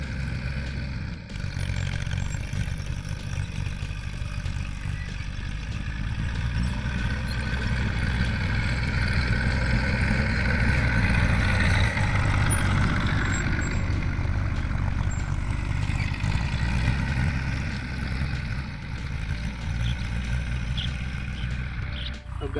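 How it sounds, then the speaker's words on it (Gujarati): A tractor engine drones steadily and loudly close by while working a groundnut field with a cultivator, a continuous rumble that holds for the whole stretch without pauses. "ટ્રેક્ટર ચાલુ થઈ ગયું છે"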